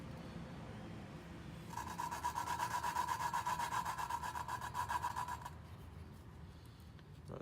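Valve lapping on a Toyota 2JZ VVTi cylinder head, a steady rasping grind of the valve being rotated against its seat, close and continuous for a few seconds before easing off, with no talking.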